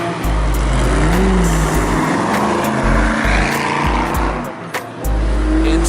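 Several cars racing on a cold track, including an NC Miata, a GTO, a Honda Civic, a Challenger and a Ford Focus; loud, roaring engines pass close by continuously, rising and falling as they go.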